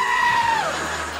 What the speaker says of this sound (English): spend 3 hours watching videos of goats that scream like people